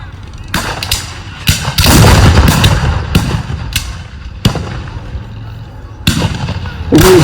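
Civil War reenactment artillery fires a series of loud, sharp booms at irregular intervals, each blast echoing and rolling out across an open field, with a heavy roar swelling in the middle and distant crackling shots between.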